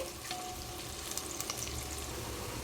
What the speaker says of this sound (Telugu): చూడండి, బాగా వేగిపోయాయి కదా ఆనియన్స్.